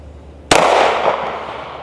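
A single sharp pistol gunshot fitted with a micro red dot sight cracks suddenly, loud and close, then rings out in a long decaying echo; no one talks.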